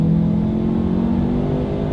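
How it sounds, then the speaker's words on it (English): A 2020 Lincoln Nautilus, without the twin-turbocharged V6, accelerates from inside the cabin with a loud, steady engine drone that climbs slightly and carries a low road rumble. "let's do a quick little acceleration and let's see how quickly we can get the new 2020 Lincoln"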